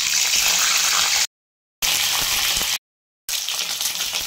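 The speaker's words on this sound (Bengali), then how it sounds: "এখন ডিমটাকে তেলে ছেড়ে দেবো" Peeled boiled eggs, scored through the middle, go into hot oil with a loud, steady broadband sizzle that runs in bursts, broken by two short gaps of silence.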